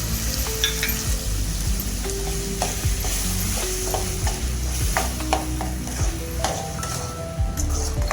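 Ginger and garlic sautéing in a pan for a chicken kuzhambu, loud close frying hiss with repeated spatula scrapes and occasional metallic clinks against the pan, steady throughout with no speech.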